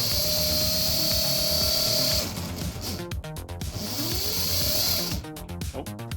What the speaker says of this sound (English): I first tried to turn the wheels from a wireless throttle command with no load on the wheels.